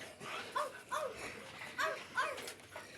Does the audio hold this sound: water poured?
no